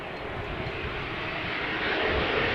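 An airliner arriving at Amsterdam Schiphol Airport roars past with a steady, broad engine rumble and hiss that grows slightly louder toward the end, heard alone without talk.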